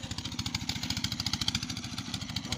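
An Oil Engines Limited oil engine drives a water pump for field irrigation, thumping in a fast, even rhythm of low pulses, close by and steady.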